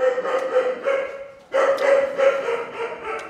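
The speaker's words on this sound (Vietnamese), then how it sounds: "bọn kia nó sủa đau cả đầu" Dogs barking repeatedly at a house, a steady run of loud, close barks with a short pause midway before the barking resumes.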